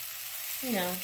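Lamb chops brown in a hot pan on medium-high heat, giving a steady hissing sizzle throughout, with a brief tonal sound rising near the end.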